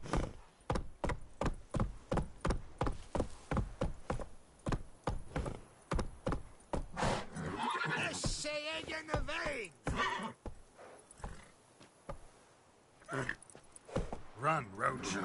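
Roach, Geralt's horse in The Witcher 3, gallops in a fast, even run of hoofbeats for several seconds, followed by a loud whinny and snorting, then more scattered hoof thuds near the close.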